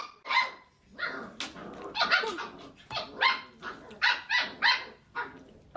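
Several dogs barking in short, energetic bursts, with yips and growly barks overlapping in a fairly close, steady run of barks throughout.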